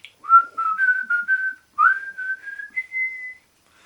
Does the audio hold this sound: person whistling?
yes